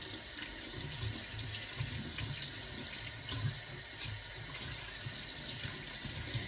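A small container that held parsley is rinsed under a running kitchen tap, a loud, steady gush of water splashing into the sink with slight shifts as the container moves through the stream.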